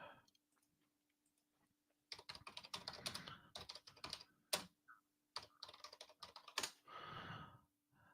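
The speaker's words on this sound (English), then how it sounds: "Sorry about the clickety keyboard in the background." A clicky computer keyboard is typed on in rapid bursts of sharp keystrokes, fairly close and quiet, with pauses between flurries and a faint steady hum in the background.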